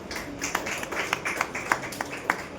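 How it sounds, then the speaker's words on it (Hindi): Scattered audience clapping at a Hindi church teaching session in Delhi: a few distinct, sharp claps ring out irregularly over a low murmur of room noise rather than full applause. "हाँ तो तालियां बजाए, दोनों के तालियां बजाए"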